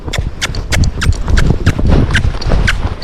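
Tennessee Walking Horse hooves beat a quick, regular clip-clop while the horse tries to canter, close and loud, with a faint voice briefly in the background.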